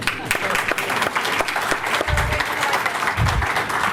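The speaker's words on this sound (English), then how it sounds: "Can everyone give Denise a round of applause, please?" Audience applause at a local historical society meeting, a dense, steady wash of clapping from many hands that fills the room close by, with a few low thumps mixed in.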